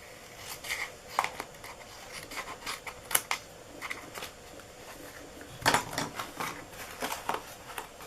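Scissors trimming a butterfly window box craft: faint, scattered snips and light rustling handling sounds, quiet and close.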